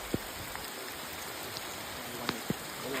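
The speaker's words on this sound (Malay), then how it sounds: "sekarang tengah hujan lebat" Heavy rain falling in the rainforest of Taman Negara, Pahang, near the Keniam river: a dense, steady hiss of downpour with a few louder drops and taps standing out, no voices.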